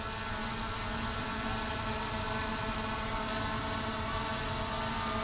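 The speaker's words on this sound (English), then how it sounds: "Pretty stable. It's GPS drones." An Oddire HK11 GPS camera drone flies with a steady, loud whining motor-and-propeller buzz, continuous and close throughout, with no talking.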